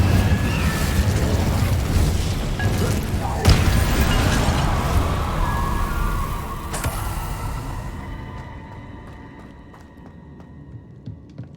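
An Incendio fire spell cast in Hogwarts Legacy bursts with a loud whooshing rumble and a sharp impact, then a fiery crackle that fades to a quiet hum over several seconds.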